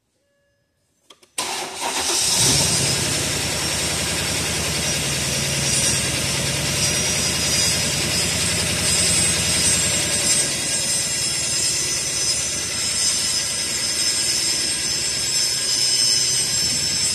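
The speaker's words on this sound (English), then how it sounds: "I'd like to do these with a cold engine first startup" A 2007 Mercedes S550 engine cold-started, a short crank catching at once and settling into a steady, loud idle that holds evenly for the rest of the stretch, heard up close with no talk.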